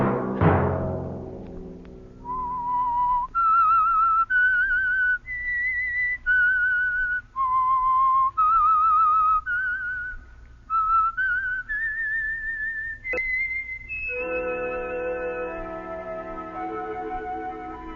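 A clear, melodic whistle carries a slow tune of held notes as a radio mystery show's theme, then lower orchestral tones swell in near the end.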